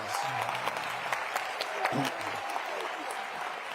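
Audience applause at an opening reception and dinner of a global forum, steady sustained clapping from a large crowd with a few voices speaking underneath.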